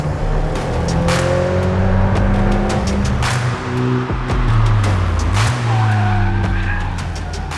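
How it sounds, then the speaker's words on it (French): A Dallara Stradale sports car drives a mountain pass, its engine loud and close with a continuous roar, rising and falling revs and gear changes. "Ça fait des bruits de voitures de course"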